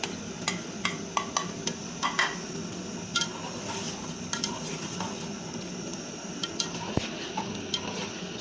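Spinach being stirred with a spoon into a sizzling green chicken karahi, steady frying hiss under a run of light spoon taps and scrapes against the pan, close and fairly quiet, no talking.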